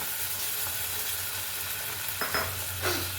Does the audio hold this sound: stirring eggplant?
yes